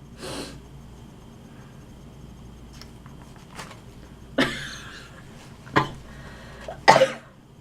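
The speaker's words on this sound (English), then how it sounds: "I hate this cough that I have." A few separate coughs and throat-clearing bursts at close range, spaced out over several seconds against a quiet background with faint breathing.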